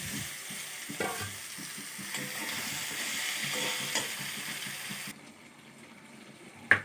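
Fried mixed vegetables being stirred into a sizzling black mustard paste spice mixture with a little water, a steady close frying hiss with scraping stir strokes that drops suddenly near the end, followed by a short clank.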